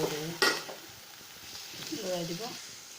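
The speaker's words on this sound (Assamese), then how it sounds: "এইদৰে ৰঙালাওখিনি দি ভালকৈ লৰাই দিব।" Pumpkin pieces with turmeric and onion are stirred in a pan, a soft sizzle with scraping strokes and a sharp clatter early on, close and fairly quiet.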